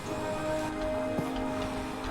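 Rain falls steadily in the farming game My Time at Portia, a soft constant patter with a few faint ticks and a brief low rumble, no voices.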